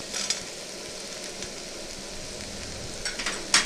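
Spice masala for a samosa filling fries in a pan with peanuts, giving a steady close sizzle and hiss broken by a few sharp crackles as it is stirred.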